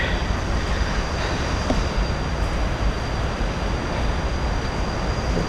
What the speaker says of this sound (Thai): ได้ยินเสียงน้ำตกดังมากครับ